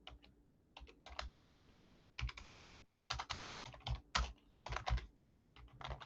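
Bursts of rapid typing on a computer keyboard, with clustered key clicks separated by short pauses, fairly close and alone without talk.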